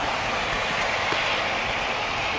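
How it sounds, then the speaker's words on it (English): A train rolls past near a station in Jászberény, Hungary, a steady loud broadband rumble and rattle of railcars that holds unbroken throughout, with no voices. "Just follow the damn train"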